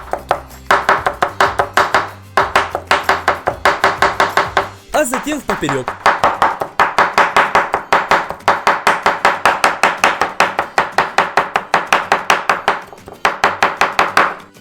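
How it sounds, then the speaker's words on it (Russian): Sun-dried tomatoes in oil are chopped finely into strips with a knife, giving steady, rapid, close rhythmic blade taps on a board, with a brief voice partway through. "И очень мелко нарезаем их на полоски."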